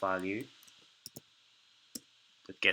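Several sharp mouse clicks come at scattered moments while a programmer works in Android code on a computer, close and fairly faint, with a voice speaking at the start and end.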